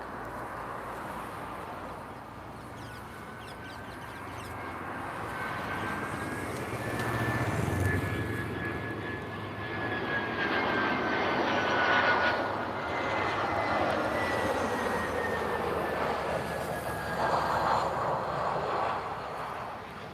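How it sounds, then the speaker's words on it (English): An EasyJet airliner comes in to land at Lisbon Airport in the evening, its steady jet roar swelling and holding loud for about twenty seconds with a thin engine whine on top, no voices. "first we get an EasyJet landing"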